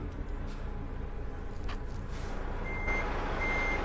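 A truck reversing in Euro Truck Simulator 2, its backup beeper sounding in steady high pulses toward the end over a constant low diesel engine rumble, fairly close with no talking.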